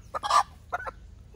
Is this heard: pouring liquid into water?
no